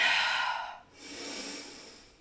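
Deep breathing during a dynamic meditation: one long, loud, close inhale or exhale rushing through the mouth, a brief pause, then a softer, slower breath that fades out.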